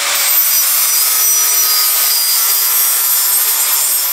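Grinder stripping paint off a steel bike frame, a harsh, loud, steady high-pitched abrasive rasp running unbroken throughout with no talk.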